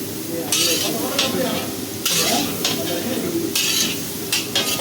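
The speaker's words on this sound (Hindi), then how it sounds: "अब इसको अच्छे से पकाते रहो" Grated black carrots for halwa are stirred in a pan, with repeated scraping strokes of a spoon against the metal over a constant close sizzle and a few light clinks, and no talking.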